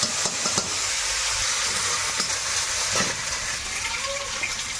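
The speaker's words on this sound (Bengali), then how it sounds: "একটু গোটা জিরে দিলাম তেজপাতা আর গ্রেট করা আদা টমেটো" Whole cumin, bay leaf, grated ginger and tomato sizzle in a pan for a Bengali dal, giving a steady close hiss with soft stirring scrapes and a few brief clinks throughout.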